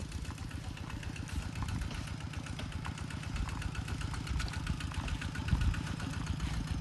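The engine of a plough machine working a rice field chugs steadily throughout, a continuous mid-pitched rumble with rapid knocking pulses and no voices.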